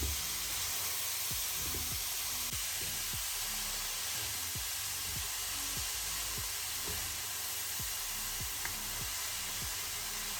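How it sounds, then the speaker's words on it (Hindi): Grated carrot lightly roasts in ghee for gajar halwa, a faint, even hiss that continues throughout, with soft regular knocks from stirring and no voices. "बस इस तरह मिक्स करूँगी, थोड़ी सी इसकी हल्की सी भुनाई करूँगी।"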